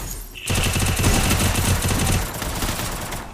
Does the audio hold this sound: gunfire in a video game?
yes